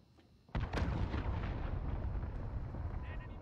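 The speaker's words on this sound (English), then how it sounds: "Allied cruise missile launched." A cruise missile strike explodes in a video game: a sudden loud blast lands after a quiet moment, then a heavy, sustained rumbling roar carries on to the end.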